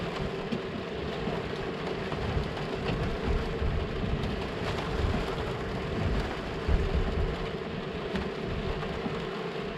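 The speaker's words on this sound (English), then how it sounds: "It is raining, and I think it's scheduled to rain pretty much all day" Steady rain falls continuously on a sailboat, a dense even hiss with a low rumble underneath, no voices.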